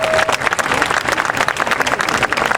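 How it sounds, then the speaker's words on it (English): Audience applause at a statue dedication ceremony for boxer Larry Holmes, a loud, dense burst of clapping from a large crowd, steady throughout. "Give him a big round of applause."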